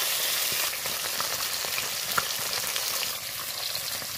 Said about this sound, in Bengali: দেখো কড়াইতে দেখো একদম খুবই তেল গরম হয়ে গেছে। মাছগুলো দিয়ে দেবো আস্তে আস্তে।